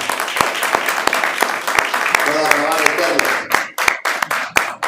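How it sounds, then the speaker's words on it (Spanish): A crowd at a religious service claps in sustained applause with sharp individual claps standing out, a voice shouting over it as the clapping thins toward the end. "Dale un fuerte aplauso a Hashem en este tiempo."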